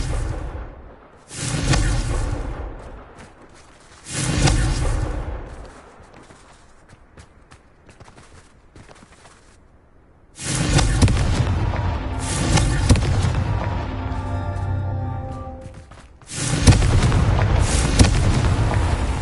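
Fire blast spells cast in the Hogwarts Legacy video game, heard as several loud booming blasts with rumbling tails, separated by quieter stretches.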